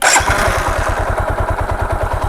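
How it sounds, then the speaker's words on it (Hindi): A Hero Platina H-Gear motorcycle with a BS4/BS3 carburetor catches and settles into a steady, close, evenly pulsing single-cylinder idle after a brief start. It runs alone, with no talking. "अब बाइक को हम स्टार्ट करते हैं।"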